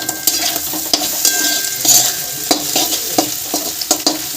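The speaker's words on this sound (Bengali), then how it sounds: "এইদিকে হচ্ছে তোমার ভাজা ডিম আলু পেঁয়াজ ভাজা" Eggs, potatoes and onions frying in a pan, a steady close sizzle broken by repeated sharp scrapes and clinks of a spatula stirring against the metal.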